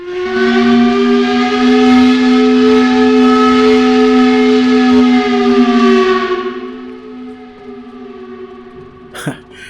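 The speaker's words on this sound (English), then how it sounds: "The whistle has sounded again because we've just come back from it being idle for a while." A factory production whistle in the railway game Century of Steam blows a loud, sustained steam-whistle chord for about six seconds, then fades into a softer tail, ending with a brief sharp click.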